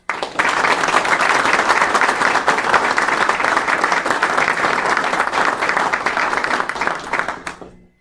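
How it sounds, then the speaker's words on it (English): An audience at a retirement ceremony gives a long, steady round of applause for Sergeant Warren Smith, dense clapping held at full level for several seconds before tapering off abruptly. "let's give another round of applause for Sergeant Warren Smith"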